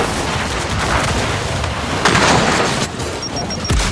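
Gears of War 5 battle heard from a distance: continuous rumbling gunfire with dull booming explosions, steady and dense, with a louder burst near the middle.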